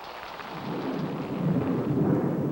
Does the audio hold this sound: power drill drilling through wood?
no